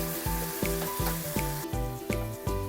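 Ground meat browns in a hot pan before the taco seasoning goes in, a close, steady sizzle with a regular pulsing rhythm running through it, and no voices.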